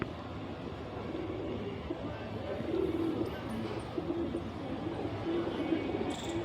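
Soft, low pigeon cooing repeats in short phrases against a busy background murmur, close and fairly quiet.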